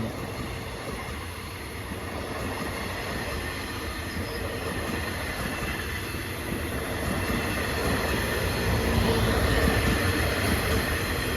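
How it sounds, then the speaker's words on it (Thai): Thai special express train number 25 pulls into Samsen station in Bangkok behind a diesel locomotive, a loud, steady rumble of wheels and engine that builds slightly as it draws near. "รถด่วนพิเศษขบวน ที่สองห้านะครับ"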